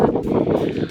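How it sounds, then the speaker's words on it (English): Gusty wind buffets an outdoor microphone near a small drone on a Rocky Mountains RV trip, a steady close low rumble with brief dips in strength. "sorry about the wind, I know."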